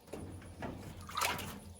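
Water pours and gurgles into a PondMax SF650 all-in-one filter sitting in a stock tank pond, with soft sloshing bursts and a louder splashy surge near the end.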